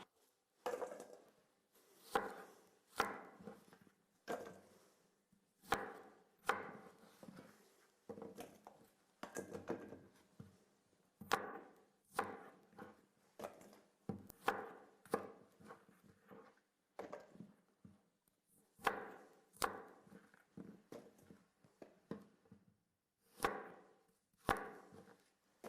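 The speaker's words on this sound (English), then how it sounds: "And now we just cut the quarters lengthwise like this, and then into slightly larger pieces." Knife cutting apple quarters and onion into chunks on a board, a long run of sharp, irregular chops and taps, close but quiet, with short pauses between strokes and no talking.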